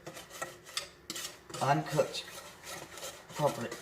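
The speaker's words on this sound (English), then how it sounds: "So I'm running my wooden spoon around the pan" A wooden spoon scrapes around a pan of lemon chess pie filling as the sugar mixture cooks, making a series of short, rasping strokes in an uneven rhythm, close and fairly soft.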